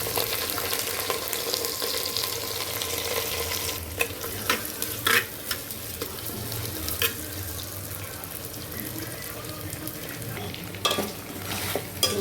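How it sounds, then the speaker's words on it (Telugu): Sliced onions sizzle in hot oil with mustard and cumin seeds for a chicken fry, a continuous close frying hiss broken by occasional sharp stirring clinks and scrapes of a spoon in the pan. "ఇప్పుడు ఉల్లిపాయలు ఇదండి ఉల్లిపాయలు వేస్తున్నా"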